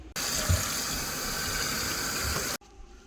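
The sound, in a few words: water running while rinsing collard greens in sink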